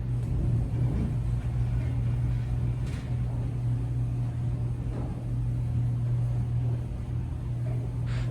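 A 1921 Westinghouse freight elevator in a 24-floor Chicago building riding downward: a steady low mechanical hum and rumble throughout, with faint knocks and rattles from the car, no voices.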